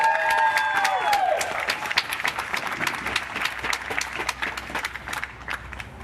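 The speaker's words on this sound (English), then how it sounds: "Let's give us all a hand of applause right now." Protest crowd at the close of a 24-hour occupation claps and cheers, dense applause with a few whoops rising over fading voices early on, then steady clapping that thins slightly toward the end.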